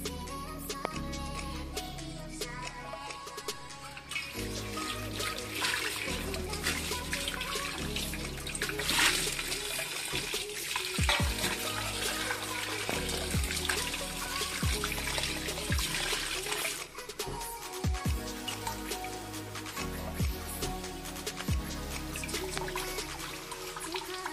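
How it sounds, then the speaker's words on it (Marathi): Catla fish pieces, including a big-bellied one with roe, are rinsed under running water in a kitchen, a steady wash of splashing and trickling that runs throughout with no talk. "आता ही मच्छी धुवून घेतली।"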